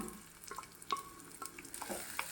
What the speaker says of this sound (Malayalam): പച്ചമണം മാറുന്നത് വരെ നന്നായി ഒന്ന് വാട്ടിയെടുക്കണം